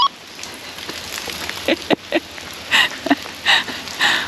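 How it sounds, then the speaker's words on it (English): Scattered raindrops patter on a surface near a big rig backing among trees, faint steady hiss with several brief louder splats and drips, no talking. "I just got rained on."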